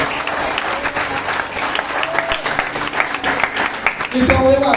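A church congregation claps in continuous, fairly loud applause that fills the space steadily, with a voice speaking over it in places.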